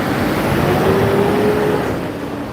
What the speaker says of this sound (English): let me let this truck go by